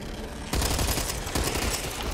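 A long burst of M249 machine gun fire in the zombie shooter Back 4 Blood, loud and close, with rapid, sustained rattling shots that grow denser partway through.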